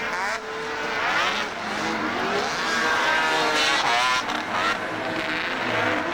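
Racing machines roar past at the Rock Maple Racing Circuit at Haystack during a pro open last chance race, engines droning loud and rising and falling in pitch as they run close together.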